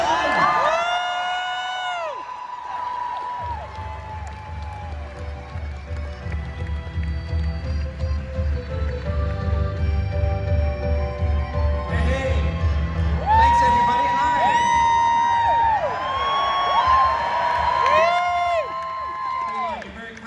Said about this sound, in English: Give a huge round of applause for Mr. Rainn Wilson.